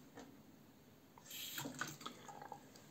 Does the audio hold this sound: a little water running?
yes